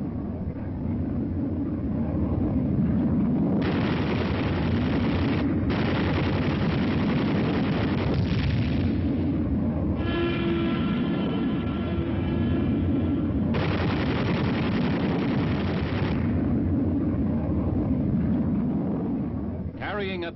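Machine gun and rocket fire from fighter jets in an old aviation newsreel: a dense, rumbling roar of rapid firing and blasts that swells and drops in long bursts, with a narrator speaking over it.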